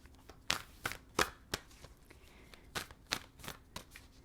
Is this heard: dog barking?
no